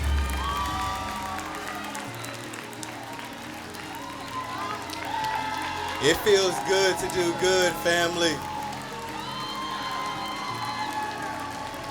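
An audience cheers and applauds for a woman receiving a new car at a giveaway event, a loud burst of clapping and shouting in the middle while someone speaks over the crowd.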